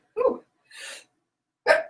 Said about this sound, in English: I'm going to sneeze here in about 2 seconds,